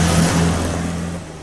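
Car engine revving steadily and fairly loud as the car drives along, with a low droning tone that dips and recovers briefly as a gear change takes place.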